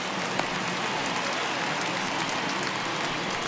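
Rain coming down on a baseball field in MLB The Show 21, a steady soft patter and hiss, even and continuous throughout at a moderate level.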